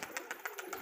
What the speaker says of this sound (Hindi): ये देखिए दोस्तों कबूतर कैसे उड़ रहे हैं हमारे